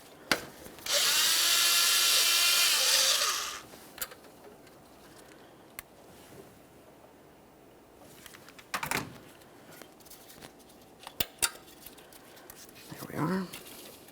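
Removing the 10mm mounting nut from the alternator on a 2012-2015 Honda Civic 1.8L I4: a loud, steady whir of a power drill or impact tool runs for about three seconds, followed by scattered clicks and light clanks of tools and parts.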